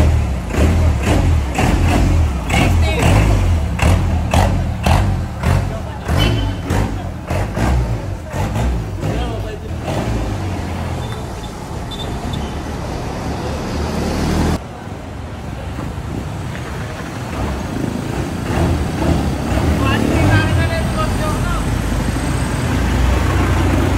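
A Honda jeep with a 4B engine running, a steady low rumbling drone with rough pulsing at first, then a smoother continuous hum, close and loud under wind noise.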